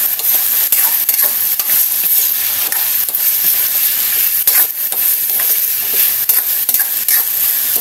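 Sayote sizzling as it is stirred and fried in a pan, a steady loud frying hiss with scraping spatula strokes recurring throughout, no talk.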